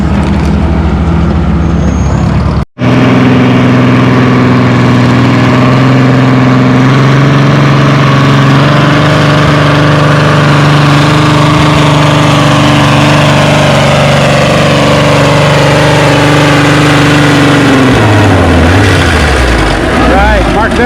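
A pulling tractor engine runs steadily for about twenty seconds, a loud, close, heavy rumble that briefly cuts out near the start and then winds down in pitch toward the end.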